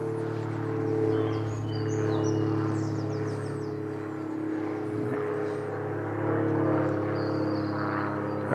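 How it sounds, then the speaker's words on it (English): A low, steady engine drone hums throughout, like propeller aircraft passing overhead near Duxford airfield, heard from the grounds of Wimpole Hall, rising and falling gently in loudness with faint birds above. "Hope you can hear me above the planes."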